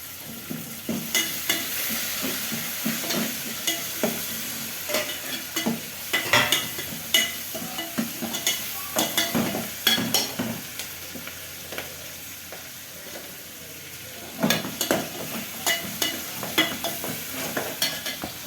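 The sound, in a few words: onions, curry leaves, mint and coriander sautéing in a pan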